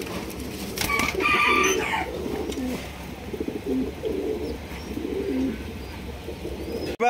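Large pigeons kept in a crowded farm coop coo and flutter, a steady low cooing murmur with a brief higher call near the start, close and continuous throughout.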